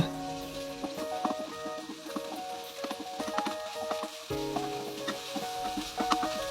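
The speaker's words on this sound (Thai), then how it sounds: "ใส่พริกแกงเขียวหวาน150 กรัมนะคะ ผัดพริกแกงให้หอม" Green curry paste, about 150 grams, stir-fried in a couple of spoonfuls of oil for Thai green chicken curry: steady close sizzling broken by repeated clacks and scrapes of a spatula against the pan, with no talking.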